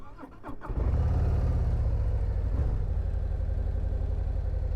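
A 2025 Harley-Davidson Fat Boy motorcycle engine cranks briefly then catches, settling into a loud, deep, steady rumbling idle close by.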